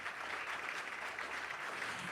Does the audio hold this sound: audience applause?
yes